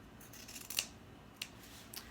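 Scissors cutting through folded, stacked fabric pieces for face masks: a few crisp close snips spaced apart in a quiet room.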